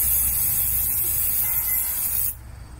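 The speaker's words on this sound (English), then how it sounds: "I will spray you." A steady, close hissing spray of silly string runs for about two seconds, then cuts off abruptly, leaving quieter background noise.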